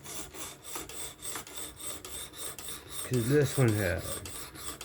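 Spyderco Kapara knife with S30V steel drawn across a fixed-angle sharpener, a run of rhythmic rasping strokes close by, with a voice speaking briefly near the end.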